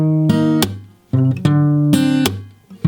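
Guitar playing the second bridge line of a song: short strummed chords and notes in a bouncy rhythm, punctuated by sharp percussive slaps, close and clear with no talking.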